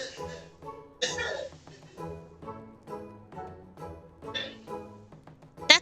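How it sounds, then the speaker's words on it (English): Repeated coughing from a person, a series of short harsh bursts spaced about a second apart, fairly faint and close, with voiced, throaty tones between coughs. "He's been having a cough, like, for a while."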